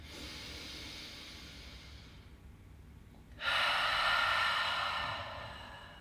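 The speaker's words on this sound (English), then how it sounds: "take a deep breath in through the nose and exhale through the mouth" A person's deliberate deep breath in through the nose followed by a long exhale through the mouth during a guided breathing exercise, with an airy inhale, a brief pause, then a louder, sustained breathy outflow that slowly fades.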